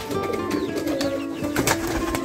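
A flock of pigeons coos in soft, overlapping, repeated calls, close by and fairly loud, with faint wingbeats and rustling around them.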